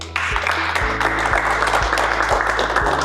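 A studio audience applauds as a guest is welcomed onto a televised public-debate set, dense steady clapping that starts abruptly, with regular low thumps from studio music underneath.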